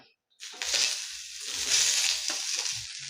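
Sliced onion drops into hot oil in a pan after toasted coconut, bursting into a loud hiss that settles into a continuous close sizzle with soft stirring thumps beneath.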